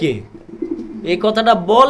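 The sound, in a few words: Jacobin pigeon cooing while sitting on eggs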